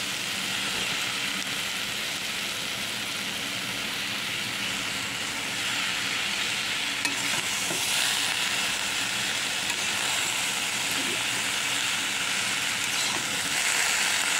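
Pumpkin stems and ridge gourd frying in a pan, giving a steady, broad hiss of sizzling oil that continues without pause and rises slightly in loudness.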